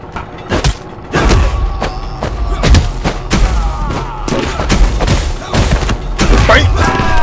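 Rapid gunfire and booming explosions erupt in a video game, sharp cracks and heavy thuds coming in irregular bursts, loud and close, with voices talking among the shots.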